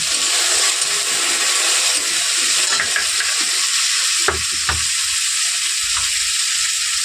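Finely chopped onions fry in hot oil with a steady, loud hiss that fills the whole stretch, broken by a couple of sharp utensil knocks near the middle.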